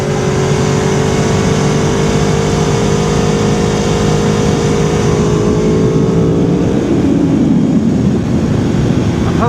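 A 2011 Aprilia Tuono V4R motorcycle engine drones steadily while riding, loud and close with a tonal whine, then the pitch drops and the sound turns rougher toward the end.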